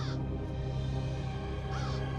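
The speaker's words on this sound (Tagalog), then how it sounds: "Kinain ng uwak ang katawan mo nang mamatay ka!" A crow caws twice, loud and harsh, with a pause between the calls and a steady background hum underneath.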